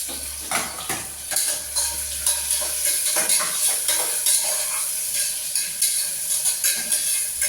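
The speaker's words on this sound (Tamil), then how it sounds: "வெங்காயம் போட்டுட்டு அதை கொஞ்சம் சாட்டேட் பண்ணணும்" Onions sautéing in a pan with a steady sizzle and rhythmic clinks and scrapes of a spoon stirring against the metal, close and without talk.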